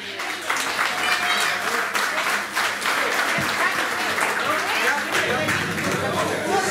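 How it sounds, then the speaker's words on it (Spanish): A crowd at a fishing club event in Minas, Lavalleja, Uruguay applauds with steady, dense clapping throughout, mixed with cheering and chatter. "Alberto Chelé, fuerte aplauso para él"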